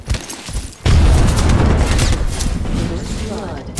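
A frag grenade explodes in a shooter video game, a sudden heavy boom after a quieter moment, followed by sustained close gunfire and rumbling, with in-game voices shouting over the combat.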